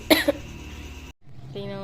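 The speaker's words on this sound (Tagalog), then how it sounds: "Mukhang may ubo ka na naman po at sipon." A young boy coughs at home, two sharp bursts close to the mic near the start, followed by a quieter stretch with household sounds.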